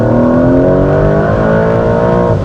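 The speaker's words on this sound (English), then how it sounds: "I can hear the turbos back there a little bit spooling up" Porsche 992.2 GTS T-Hybrid engine pulling hard after a downshift, loud and close, with rising harmonic engine tones and a faint turbo spool whine building over about two and a half seconds.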